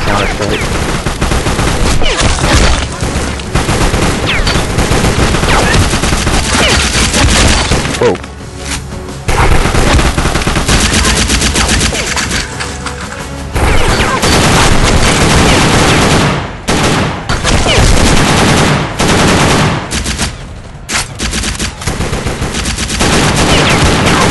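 Constant loud bursts of gunfire and rapid automatic fire fill the action game Secret Service: The Ultimate Sacrifice, with a few brief lulls between volleys.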